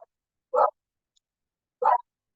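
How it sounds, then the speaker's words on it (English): A pet dog indoors gives two sharp, short barks about a second apart, clear and fairly close against otherwise silent surroundings. "Sorry, my dog is going crazy."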